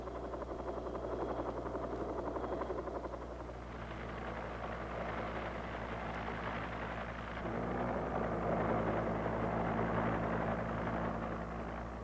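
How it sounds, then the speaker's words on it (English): A Cobra AH-1G armed helicopter runs with a steady, loud rotor and turbine drone, a continuous mechanical roar that shifts slightly in tone midway and then swells a little toward the end. "armed helicopters, such as this Cobra AH-1G, present additional dangers through their weapons systems"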